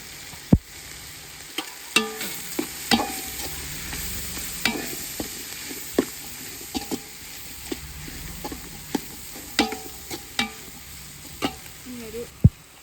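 Egg is stir-fried into fried rice in a hot pan: a loud, constant sizzle with sharp spatula clacks and scrapes recurring every second or so, up close.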